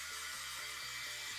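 A hair dryer blows on wet paint: a faint, steady, unbroken whooshing hum with a slight pulsing drone beneath it, and no other sounds.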